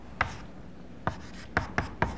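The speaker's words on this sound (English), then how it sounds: "I'm going to write down three things to do." Chalk or marker writing on a board during a programming lecture: several short, sharp taps and strokes spaced apart, close and fairly quiet, with no talking.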